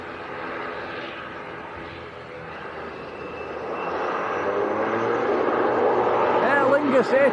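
ATR turboprop airliner rolling down a runway at Manchester Airport, a loud steady engine roar that swells and grows brighter over several seconds with a rising propeller whine near the end.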